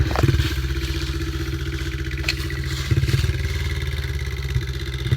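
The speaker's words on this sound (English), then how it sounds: "Really badass dirt bike." A dirt bike engine runs close by with a loud, steady throbbing idle and rattly mechanical clatter, a few brief thumps and revs breaking the even drone.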